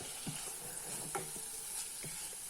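Onion masala for tapioca balls sautés quietly in a pan, a soft continuous sizzle broken by a few light scrapes of a stirring spoon.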